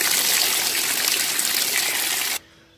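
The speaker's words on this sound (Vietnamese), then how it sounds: "Mọi người đem xoài trần xả dưới vòi nước lạnh cho đến khi nào mà cái miếng xoài của mình nó nguội hẳn thì thôi nhé." Cold tap water gushes steadily over blanched mango pieces for mango jam, a loud continuous splashing stream that cuts off abruptly near the end, leaving quiet.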